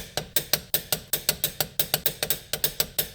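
A torque wrench ratchets in a steady run of about sixteen sharp, evenly spaced clicks while a lug nut is tightened on the front wheel of a Mercedes-Benz C230 Kompressor, close and clear with no talking.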